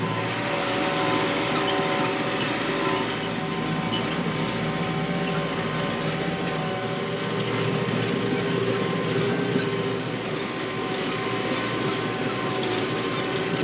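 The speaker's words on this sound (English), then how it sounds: "Chisel plowing is going smooth." A tractor pulling a chisel plow through a rocky field drones steadily from inside the cab, a continuous engine hum with a faint grinding rumble and no breaks.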